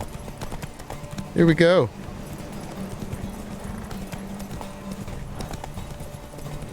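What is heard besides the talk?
horse Roach galloping, hooves clip-clopping, from video game The Witcher 3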